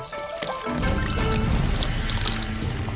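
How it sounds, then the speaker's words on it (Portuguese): Soy sauce is poured into a frying pan of black beans and water, a close, steady liquid stream that sets in after a brief quieter moment and continues to the end. "Adicionamos o molho shoyu,"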